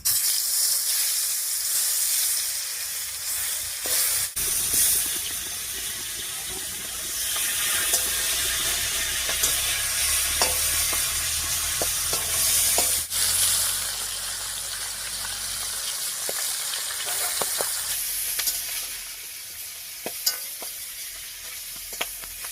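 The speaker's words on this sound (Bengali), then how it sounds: "এবারে মাছগুলো হালকা করে ভেজে নেব।" Pieces of magur catfish frying in hot oil in a home kitchen, a loud, steady sizzle and crackle that runs throughout with occasional stirring clatter and spatter pops.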